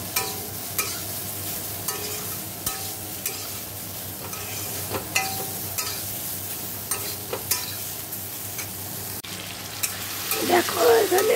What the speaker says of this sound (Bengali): ব্রোকলি ভাজা হচ্ছে